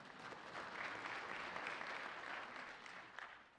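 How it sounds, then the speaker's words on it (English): Church congregation clapping together in sustained applause after a pastor's prompt, a dense, steady wash of many hands lasting the whole stretch without fading. "You can clap for God there."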